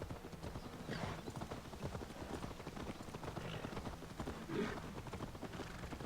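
Horse hooves clip-clop in a steady, quick rhythm, fairly close, with a soft background hiss, from the video game Assassin's Creed Valhalla.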